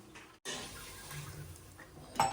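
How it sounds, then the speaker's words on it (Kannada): Two cups of water pour steadily into a pot holding rice, a soft, continuous splashing rush, ending in a light metallic clink. "2 ಲೋಟ ನೀರು ಹಾಕ್ತೀನಿ"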